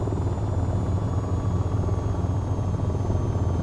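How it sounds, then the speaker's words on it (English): Helicopter in the flight game VTOL VR, a continuous, loud rotor drone with a low pulsing beat that holds steady and close throughout, with no talking over it. "the helicopter is much better rolling to the left than it is to the right"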